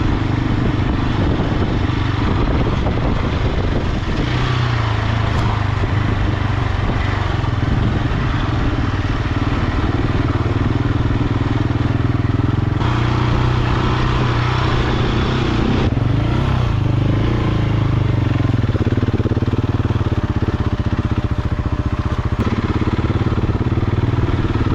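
Adventure motorcycles ride a Wyoming backcountry route near Hyattville, giving a continuous engine drone with wind buffeting and shifts in pitch throughout, close and steady with no voices.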